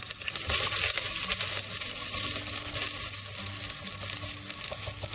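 Garlic sizzling steadily in hot oil in a pan while being stirred for a vegan broccoli and coconut soup, a close, continuous crackle with soft scraping of the spoon and no talking.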